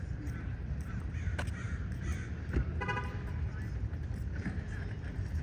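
A crow caws a few times at a distance over steady outdoor noise, with faint voices in the background, near Pier 39 in San Francisco.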